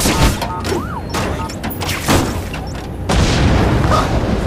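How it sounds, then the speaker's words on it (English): Loud booming bursts of fireworks in The Amazing Spider-Man 2 video game, a few heavy blasts in succession with crackling debris and game noise around them. "Friendly neighborhood fireworks!"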